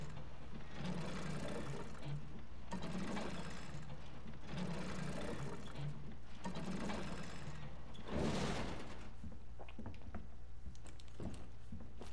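A handle mechanism being cranked in Resident Evil 2, a steady mechanical whirring and ratcheting that runs in several long bursts, with a louder rattle near the end, heard alone.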